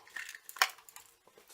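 Plastic packet of rice torn open in a home kitchen while making curry, a short crinkly rip with a sharp tearing burst in the middle, close and fairly quiet, followed by faint rustling.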